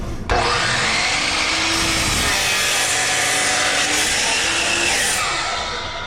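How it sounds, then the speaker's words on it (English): A saw cuts through a wooden board for a face frame, giving a steady, loud rasping whine that holds for several seconds and fades slightly near the end. "So as I bring the saw down"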